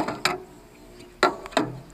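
A mouthpiece being worked off a hand-held token seed-sowing machine after its black screws are removed: three sharp, close clacks, spaced apart, with quiet between them.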